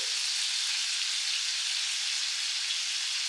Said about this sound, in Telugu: అటు సైడ్ తిప్పుకొని ఇదే విధంగా బ్రౌన్ కలర్ వచ్చేలాగా ఫ్రై చేసుకోండి.